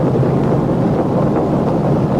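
A propeller airplane flying over Mexico at about 1,500 feet on a failing engine, heard as a loud, unbroken, rumbling drone with a rushing wind-like roar that stays constant throughout.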